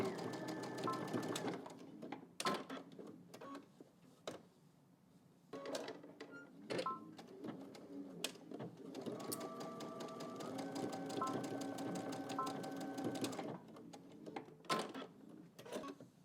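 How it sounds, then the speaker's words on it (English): A sewing machine stitches a 5/8 inch seam in fast whirring bursts, each run stopping and restarting with short pauses and clicks between passes. The sound is close and steady. "we're just going to go to the machine and we're just going to stitch 5/8 of an inch here and then also here."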